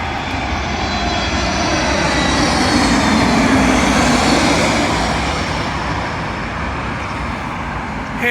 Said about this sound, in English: Arriving in now is an Aer Lingus Airbus